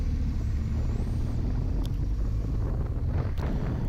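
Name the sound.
vehicle riding on a gravel road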